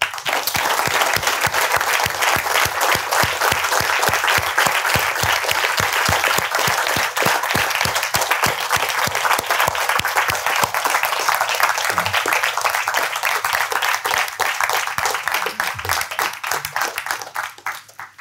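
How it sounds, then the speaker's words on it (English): Sustained applause from a seminar audience thanking the organizers at a mathematics lecture, steady dense clapping filling the room for about eighteen seconds before tapering off. "let us all applaud the organizers for their massive work and their commitment to this,"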